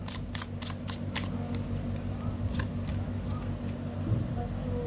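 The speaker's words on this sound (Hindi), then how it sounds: "last shuffle" Tarot cards being shuffled by hand during a reading, a quick series of crisp riffling bursts close up over a steady low background hum, with no speech.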